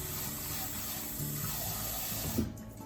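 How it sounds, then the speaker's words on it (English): Steady stream of tap water running into a sink while rice is rinsed, a continuous close hiss that swells slightly near the end before cutting off. "Add some water, stir gently."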